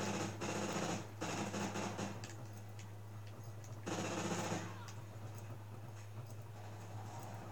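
Rapid automatic gunfire from Call of Duty: Ghosts gameplay on Xbox Live, bursting in loud clusters over steady game noise, with a few short pauses between volleys.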